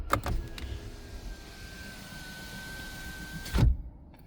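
An automatic power window on a 2024 Suzuki Jimny GLX runs with a steady whining motor hum for about two seconds, preceded by a few switch clicks and ending with a firm thunk as it seats, close inside the cabin.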